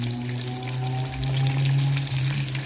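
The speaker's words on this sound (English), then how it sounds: "when you see the oil stop bubbling ferociously" Chicken fries in hot oil in a Jamaican Dutch pot, giving a steady loud bubbling and crackling sizzle over a low rumble that swells slightly midway and continues without speech.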